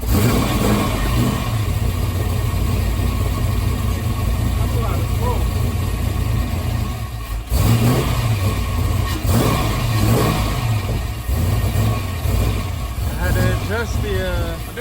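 A Ford Foxbody 5.0 302 V8 with a fuel pressure regulator fault revs loudly and steadily, close by, with throttle blips swelling over a constant rumble and people talking over it.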